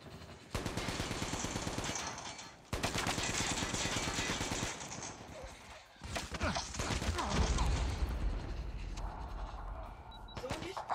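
Sniper rifle fire from the mobile shooter Call of Duty Mobile rings out in loud, dense bursts with mechanical clatter between blasts, over continuous game noise and occasional player talk.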